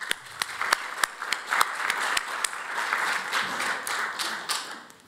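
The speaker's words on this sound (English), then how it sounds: "a big round of applause to everybody who's here today" An audience at a health equity event gives a sparse round of applause, with distinct individual claps standing out over a steady wash of clapping that fades toward the end.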